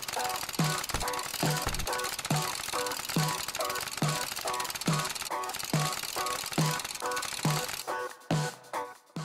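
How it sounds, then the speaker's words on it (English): Jackhammer mining for sulfur and metal in the survival game Unturned, a loud rapid mechanical hammering in regular bursts about twice a second, steady and close, dropping off near the end. "I'm gonna run around with the only jackhammer that we have and try to get as much sulfur and metal as possible"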